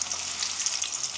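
Onion paste sizzles steadily in a hot frying pan while a banana flower curry cooks, a close, even hiss that holds without a break.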